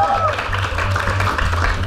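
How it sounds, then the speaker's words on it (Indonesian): A television studio audience claps for three guests on a family game show, giving a brief, dense burst of applause with a voice speaking over it. "sekarang penonton tepuk tangan dulu untuk mereka bertiga."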